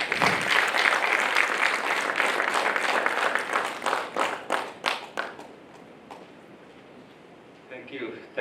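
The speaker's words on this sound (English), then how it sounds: "Please join me in welcoming Professor Malik with a warm round of applause." A conference audience gives a warm round of applause for an economics professor, dense clapping that thins into scattered claps and fades out.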